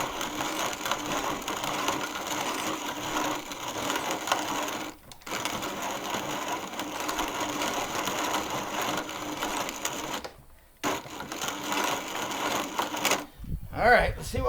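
A Wonder Junior hand grain mill grinds grain between its stones with a continuous gritty crunching and rattling, pausing briefly twice before a final clatter.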